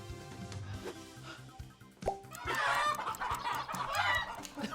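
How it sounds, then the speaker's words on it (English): A chicken in a video game clucks in a busy, rapid burst of squawks over a game soundscape with music and thumps, growing louder in the second half. "Chicken! I have to get you in the pen!"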